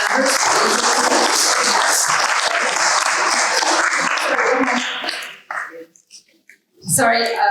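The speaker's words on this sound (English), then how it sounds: "Please give a round of applause for our panel" Audience applause at a civic forum for a panel on downtown revitalization, loud and dense for about five seconds before breaking off, followed by a few scattered sounds and a brief burst at the end.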